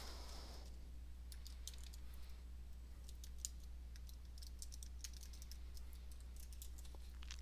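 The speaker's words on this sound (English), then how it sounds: "I'll type the URL" Quick, scattered keystrokes on a computer keyboard while a web address is typed, light irregular clicks in short bursts over a low steady hum, close and fairly quiet.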